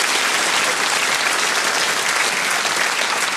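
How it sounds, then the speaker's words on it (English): A theatre audience at a comedy show breaks into loud, dense applause, steady and sustained throughout with no voices over it. "Give yourselves a round of applause"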